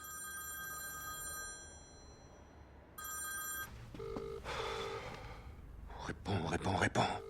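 A film's telephone rings in two electronic trilling bursts, then a few muffled sounds and a short whispered exchange follow during a tense action scene.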